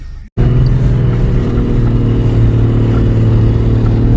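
Car engines run steadily and loudly as vehicles pull away through deep snow, a continuous close droning rumble after a brief silent gap at the start.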